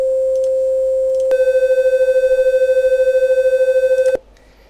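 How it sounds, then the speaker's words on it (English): A sine wave and a slightly lower-tuned triangle wave play together in ModPlug Tracker, making a steady electronic tone. A single pitch comes in first, then the combined tone pulses rapidly in and out, and it cuts off abruptly. "So make the triangle play a bit lower. Start the sine wave playing."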